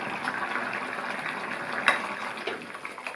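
Tamarind water, made from tamarind dissolved in half a cup of water and strained, pours into a brinjal curry in a South Indian kitchen, giving a steady liquid splash and gush with a brief clink near the middle.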